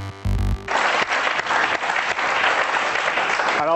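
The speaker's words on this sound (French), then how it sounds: "Et on va t'applaudir." Studio audience applause on a French television show, a brief burst of tonal music at the start giving way to a dense, steady wash of clapping that carries on to the end, where another musical sting enters.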